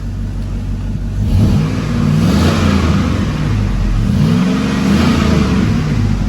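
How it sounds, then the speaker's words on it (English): A Chevrolet Suburban with a World Wide Performance cat-back exhaust revs up loudly, with a steady deep rumble that swells into two rising revs and holds near and continuous throughout. "I'm going to give you guys a little bit of a rev so you guys can hear it"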